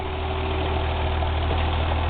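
A 1985 Toyota Celica Supra engine idles steadily, with a close, even mechanical hum and a slight knocking vibration throughout and no talking.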